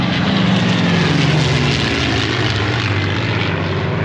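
A P-51D Mustang with a license-built Packard Merlin engine passes at an air show, its loud piston drone and propeller roar steady and close throughout, with no voices.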